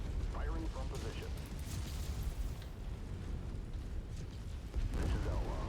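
Mech weapons fire in a combat video game, a continuous mix of booming blasts and explosions layered over a dense battle din, with radio-style voice chatter in the mix.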